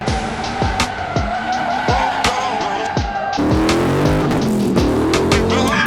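Cars skidding at a motor show in Bielsko-Biała, a run of repeated tire squeals and revving engines, loud and fairly close, with the pitch of the engine note jumping midway as another car takes over.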